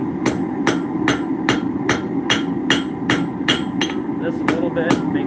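Steady, evenly spaced hammer blows ring out close up while forging a mulling iron, about a dozen sharp metallic strikes at a brisk rhythm over a low background hum.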